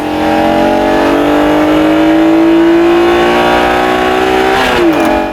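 The 90-degree oversquare V6 of an original Acura NSX revs hard as VTEC switches to the high-lift cam lobes. It sounds loud and close, with a rising intake wail that peaks and then drops off.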